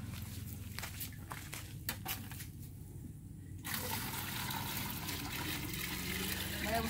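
Water from a bucket pours onto loose soil, a faint trickle and splash that swells into a steady, fuller rush partway through, with soft movement around it.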